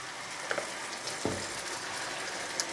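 Pepper mix for jollof rice goes into a hot pot, setting off a steady low frying sizzle with a few soft splashes and knocks, close and fairly quiet.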